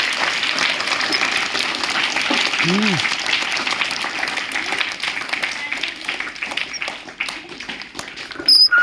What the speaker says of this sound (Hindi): मारो जोरदार ताली।